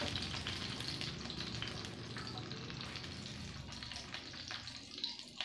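Hotdog frying in a pan, a steady busy sizzle and crackle of hot oil with occasional stirring scrapes, close and continuous but fairly quiet, with no voices.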